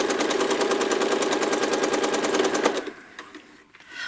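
A sewing machine stitches a ribbon candy pattern along an uneven piano key quilt border, running fast and steady with a rapid needle rhythm close by for under three seconds before stopping.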